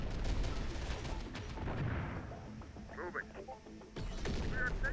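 Allied troops fire weapons in the Terminator: Dark Fate – Defiance video game, with rapid, dense gunfire and booming artillery rolling continuously and easing briefly before resuming, while someone talks over it.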